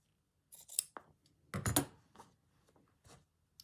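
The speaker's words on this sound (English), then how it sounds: "So I'm going to trim that." Scissors trimming a small piece of fabric while sewing a rice bag, several quiet, close snips in short bursts with brief pauses between.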